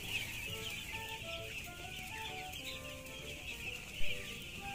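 Chicks and hens in a poultry pen, with soft clucking and peeping that carries steadily over a constant hiss of background noise, plus one brief louder bump near the end.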